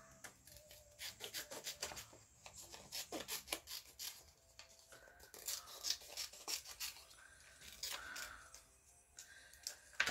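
Close, quiet scissor cuts through card stock while making a Christmas card, a series of irregular snipping and rubbing strokes with brief pauses between them.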